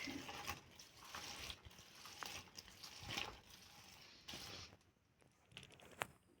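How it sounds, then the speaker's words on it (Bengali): Running water pours over flowers being rinsed for a Hindu puja, a steady tap-like splash with patter that thins and fades toward the end, close by and moderately quiet. "তো দেখুন আমি এখন ধুয়ে নিচ্ছি ফুলগুলো,"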